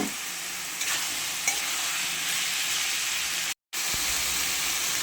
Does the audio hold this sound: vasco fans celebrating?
no